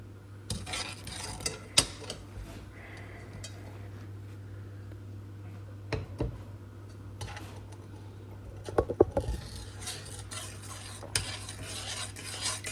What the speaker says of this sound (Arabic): طبعا بنحرك السكر حتى يدوب